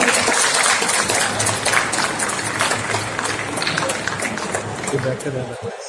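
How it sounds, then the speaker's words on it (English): Audience applause and crowd noise welcoming Ambassador Vincenzo De Luca, Italy's ambassador to India, onto the stage at the India Emobility Show 2023, loud and sustained throughout with a steady wash of clapping and murmur. "Ladies and gentlemen, please give a huge round of applause to Ambassador Vincenzo De Luca, Italy's ambassador to India."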